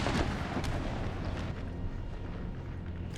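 Artillery in Napoleon: Total War booms in a dense, rumbling barrage of overlapping cannon blasts, loud and continuous, with no voices over it.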